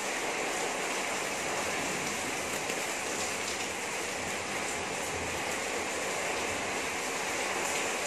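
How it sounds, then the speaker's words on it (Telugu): Heavy monsoon rain pours outside a home kitchen in a dense, unbroken roar that stays loud and constant throughout, with no voices. "ఆ శబ్దం ఏంటి అనుకుంటారేమో వర్షం బాగా పడుతుందండి కుంభవర్షం కురుస్తుంది"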